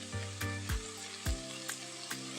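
Peas and food fry in a pot for a Haitian corn-and-beans dish, giving a quiet steady sizzle broken by several soft knocks of stirring, with no talking.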